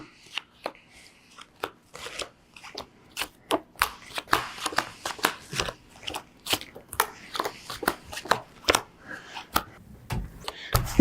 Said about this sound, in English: stack these cards in a few more shuffles